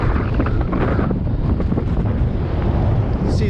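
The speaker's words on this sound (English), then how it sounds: "Very windy as well." Strong wind buffets the microphone near a mountain summit on the Heads of the Valleys three peaks route, a loud, continuous rumbling roar that fills the whole clip with no talk.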